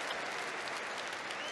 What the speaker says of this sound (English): every treble from Tomas Seyler is getting a round of applause here from this audience